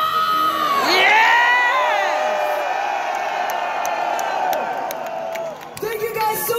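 A metal concert crowd at the Masters of Rock festival screams and cheers loudly, with shrill whoops and shouts swelling early, then a sustained roar that dips briefly near the end.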